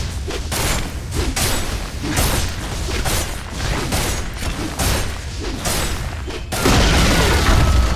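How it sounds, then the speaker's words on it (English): A tower falling in the Dota 2 video game sets off a loud run of booms, crashes and whooshes. Repeated impacts build to a heavier sustained rumble at the end. "Radiant's top tower has fallen."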